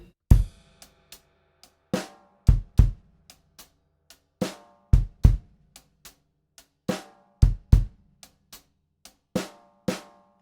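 A drum kit plays a Grade 3 soul groove, with snare hits on beat 4 and on the downbeat and upbeat of 3. Crisp hi-hat and kick strokes repeat steadily, close and alone.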